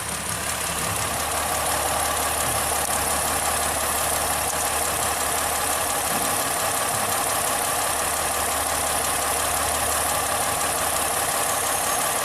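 A Ford Fusion engine idles with a misfire on cylinder 1, a steady loud rumbling hum with an uneven low-end stumble running throughout, no talk.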